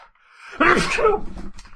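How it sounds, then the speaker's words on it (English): One sharp, loud human sneeze bursts out after a short silent pause, followed by a breathy trailing exhale. "I sneezed so hard my headphones fell off"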